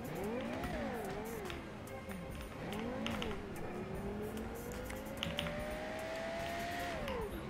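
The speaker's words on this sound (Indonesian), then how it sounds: "Carrera GT." Porsche Carrera GT engine in a racing video game, revving with rising and falling pitch sweeps, then a long climbing note held through acceleration, loud and continuous with faint tire noise.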